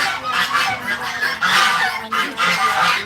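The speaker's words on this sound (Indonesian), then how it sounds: "Ini burung ayam mutiara." Guinea fowl at a family home in Depok give repeated harsh, honking calls in quick bursts, loud and close.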